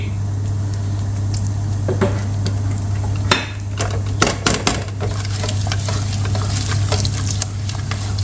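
Spices and ingredients for mutton aloo gosht are sautéed in a pot: a continuous sizzle under a low hum, with scattered spoon scrapes and metallic clatter from stirring.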